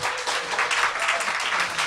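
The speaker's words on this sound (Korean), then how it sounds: "일단 박수 치시고요" Studio audience applauding a politician as he comes on a talk show, a brief, dense and steady burst of many hands clapping with no speech over it.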